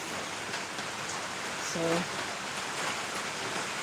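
Steady rain falling outside, a broad even hiss that runs close and loud the whole time, with a brief spoken word over it.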